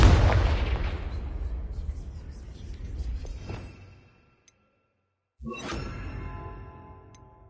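Confringo spell explosion in Hogwarts Legacy, a loud booming blast that rolls off over a few seconds, then silence before a second sharp burst with a shorter decay.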